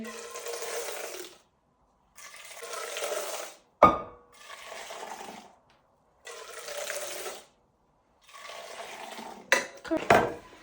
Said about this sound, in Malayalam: ഇനി നമുക്ക് നമ്മുടെ ഒത്തിരി പൊക്കി ഒഴിയണം, നല്ല പത കൂടി വരത്തുള്ളൂ